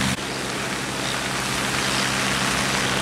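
Heavy rain pours steadily on a ship at sea during a storm, a dense, loud, continuous hiss with no talking and no breaks.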